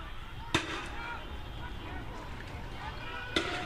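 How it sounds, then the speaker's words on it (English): Fireworks thrown during a street protest in Santa Ana, two sharp bangs a few seconds apart over a constant crowd hubbub and murmur of voices. "that is no joke when you throw those fireworks that way."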